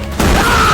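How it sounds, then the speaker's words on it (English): A single gunshot cracks out sharply and loudly, then trails into a sustained rumbling echo with a faint ringing tone and no voices. "A gunshot rang out."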